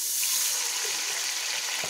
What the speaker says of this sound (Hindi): जब प्याज हो जाए ब्राउन तो आपने इसमें थोड़ा पानी डालना है